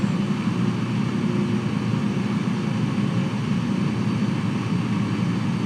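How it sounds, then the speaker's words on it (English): Jet aircraft engines run on the ground at an airport on a windy day, a steady low droning roar with wind rumble and no voices. "We got 2 jets on the ground ready to cross."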